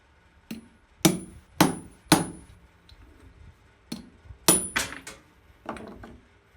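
A steel hot cut hardy tool is struck as a cold chisel in a forge shop, giving about nine sharp, ringing hammer blows in an uneven rhythm, close and loud with no talking.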